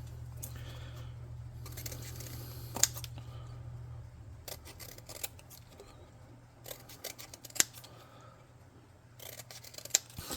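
Cardboard lengths being cut for a tabletop-game model, soft crisp snips and scrapes scattered irregularly over a low steady hum, close and quiet, no talk.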